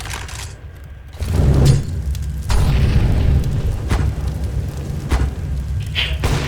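Bomb explosion in the video game CS:GO, a heavy low boom that swells suddenly and leaves a rumbling, roaring tail, with a few sharper bursts and clicks following.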